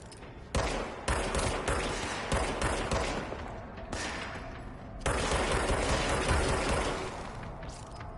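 Handgun fire in the video game Control, repeated rapid shots in dense bursts separated by short pauses, loud and close with no talking.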